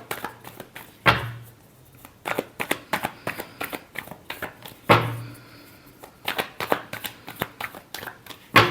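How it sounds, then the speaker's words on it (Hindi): Tarot cards riffled and shuffled by hand in repeated bursts, with two sharper louder riffles standing out among quick soft card slaps, close and clear with no talking. "Last shuffle."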